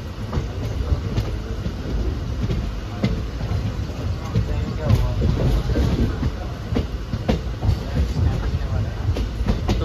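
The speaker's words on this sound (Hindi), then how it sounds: "अपनी ट्रेन पहुंच चुकी है खेकड़ा रेलवे स्टेशन पर" The Shamli–Delhi passenger train rolls steadily along the rails, its wheels clacking in a loud, continuous rumble heard from on board as it approaches Khekra station.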